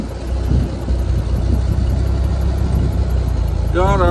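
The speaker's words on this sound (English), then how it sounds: "Got ourselves a little dump truck." A 1964 Chevrolet C60 dump truck with an inline 292 engine idles with a steady, loud low rumble throughout, and a voice speaks briefly near the end.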